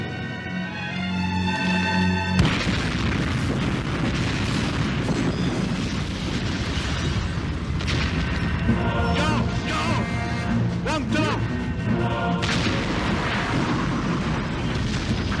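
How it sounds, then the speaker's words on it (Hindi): A bomb explosion in a Tamil action movie dubbed into Hindi, a dense, sustained blast with rumbling crashes and debris that fills the whole stretch at high volume, mixed with film score. "यहाँ बम फटने वाला है।"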